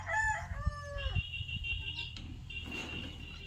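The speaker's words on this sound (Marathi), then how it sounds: "ह्या कोंबड्यांना बघा" Chickens in a poultry shed give a few short crowing and clucking calls, close and fairly quiet, over a low murmur of background noise.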